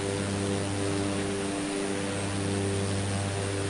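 A propeller plane's engine drones steadily in Microsoft Flight Simulator 2024, an even, constant buzzing hum throughout with no talking.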